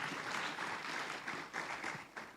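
An audience at an artificial intelligence forum gives a round of applause, scattered clapping with uneven bursts, fairly faint and brief.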